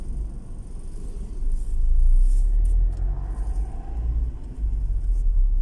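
Trucks and other traffic roll past on a road in a steady, loud low rumble that swells and eases as vehicles go by, with no talking.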